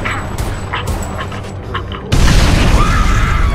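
Missile launch in Homefront The Revolution: a sudden loud blast about two seconds in turns into a heavy, sustained roaring rush, following quieter combat noise with a dog barking.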